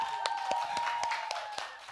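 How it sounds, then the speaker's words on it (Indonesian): A church congregation claps in a steady, even rhythm of about four claps per second over a sustained musical tone, close and moderately loud throughout. "tepuk tangan dulu dong"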